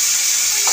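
Tomato paste with a pinch of salt sizzles in hot oil tempered with radhuni spice, a steady, close, bright frying hiss that runs unbroken through the short moment.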